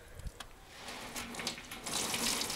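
Hot water is poured from a kettle over goose feathers held in a sieve, a steady splashing, gurgling stream that grows slightly louder toward the end, close by and without speech.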